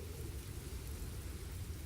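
Steady rain with a low rolling thunder rumble in Expeditions: Viking, a soft continuous wash of noise with no voices.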